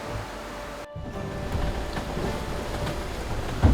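A Seawind 1600 catamaran sails with the screecher out in 13 to 15 knot beam winds and rain, giving steady rushing wind and wave wash with a brief dropout and a soft thump near the end.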